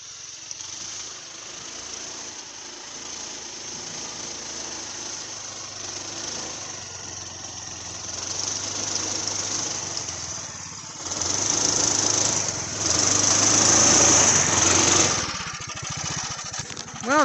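A Polaris Sportsman 420 ATV engine runs steadily in two-wheel drive on a warm winter day, droning close by and then revving louder for a few seconds near the end.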